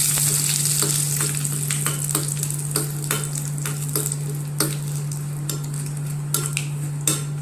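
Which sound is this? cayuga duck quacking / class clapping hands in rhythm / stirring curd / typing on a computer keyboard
stirring curd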